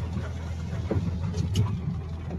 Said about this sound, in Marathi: सो फायनली आमची गाडी कशी तरी हळूहळू पुढे जात आहे. कशी तरी जातीये आणि परत थांबतीये.